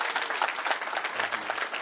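Steady applause from an audience at a Guinean independence anniversary ceremony, dense clapping throughout with no break.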